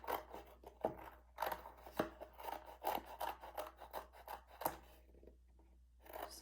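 Scissors cutting out a paper treehouse: a quiet, close series of crisp snips and rustling paper strokes in an uneven rhythm, pausing briefly near the end before another snip.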